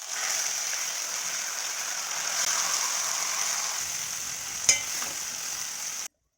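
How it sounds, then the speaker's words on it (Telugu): Brinjal bajji being stirred as it fries in a pan with onions, cumin and curry leaves, giving a steady, close sizzle with scraping stir strokes. One sharp clink of the spoon near the end, then the sound cuts off abruptly. "ఇప్పుడు వంకాయ బజ్జీ అనేది దీంట్లో వేసుకుందాం."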